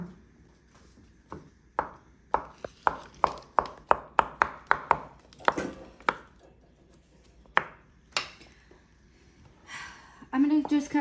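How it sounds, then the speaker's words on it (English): A knife chops through mushrooms into thin dice, with a quick run of crisp, evenly spaced chops followed by a few slower cuts, and a voice begins speaking at the end. "I'm gonna just cut this last mushroom"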